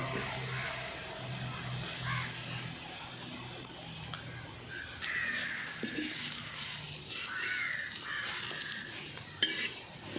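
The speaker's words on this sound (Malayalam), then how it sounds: "ഇങ്ങനെ മീൻ ഫ്രൈ ചെയ്യുന്നുണ്ട്" Fish frying in a hot pan for a masala kappa and fish dish, a steady soft sizzle with occasional stirring and utensil clicks running throughout, no talk.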